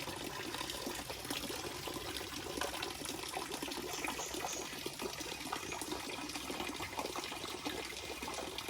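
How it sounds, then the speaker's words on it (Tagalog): Steady rushing and trickling water, continuous and fairly loud, draining out through an outlet from a tilapia fish pond, with no talk. "bumaba ngayon ng tubig"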